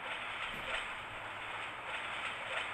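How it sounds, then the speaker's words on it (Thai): A train passes near a station crossing, a faint, steady broadband roar with soft rolling rail clatter, continuous and somewhat distant, with no voices. "โอ้ รถไฟ"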